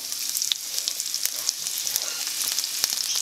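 Onions frying in hot oil with mustard seeds, cooking for a meat-free beef-style curry: a close, steady sizzling hiss with small scattered pops and crackles, continuous and fairly loud, with no talking.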